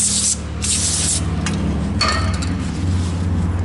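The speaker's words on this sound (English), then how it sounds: "we're gonna spray that down good." Cleaner is sprayed in loud bursts onto a greasy part to strip old lubricant, hissing close by with short pauses between sprays and faint rubbing and clinks.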